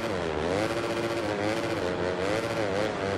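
A motorcycle engine in the Monster Energy Supercross 6 racing game, a steady buzzing drone with its pitch rising and falling as the throttle shifts, loud and continuous.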